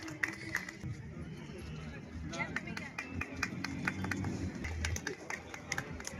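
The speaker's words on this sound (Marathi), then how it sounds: "जोरदार टाळ्या होऊन जाऊ द्या" An audience gives loud applause at a public ceremony honouring local figures, with a dense run of claps building over the last few seconds under an announcer's voice and crowd chatter.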